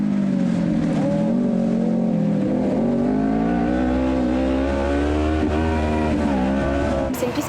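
SCX Esprit cross car driving a lap on a dirt track, its engine roaring loud and close throughout with steady, rising and falling pitch as it accelerates and backs off, a sharp change right at the end.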